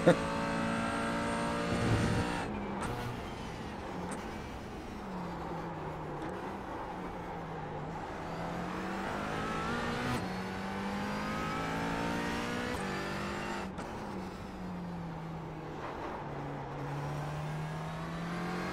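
McLaren 570S GT4 race car engine in the iRacing simulator revving up and down through the gears, a loud rising and falling engine tone with a brief gear-change dip and some talk over it.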